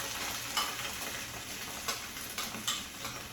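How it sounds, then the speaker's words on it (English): Pumpkin pieces sizzle in a pan over garlic in a quiet, steady, close fry, with a few light clicks and taps from the pan scattered through. "gonna toss the pumpkin in on top of that garlic"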